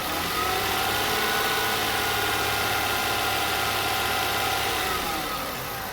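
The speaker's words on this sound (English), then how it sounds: "I'm gonna go ahead and increase the RPM." A car engine runs at raised RPM during a charging system load test, giving a continuous, even mechanical drone with steady vibration and no talking.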